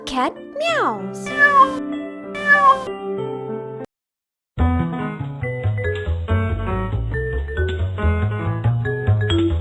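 A cat gives two drawn-out meows with rising and falling pitch, close and clear. After a brief silence, busy music takes over.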